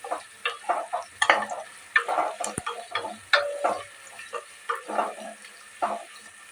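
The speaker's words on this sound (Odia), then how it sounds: "ପିଆଜ ଟିକେ ଭାଜିବା ଆଉ" Onions are cooked in a pan for a home-style biryani, with quiet, irregular stirring scrapes and light sizzling up close in short bursts.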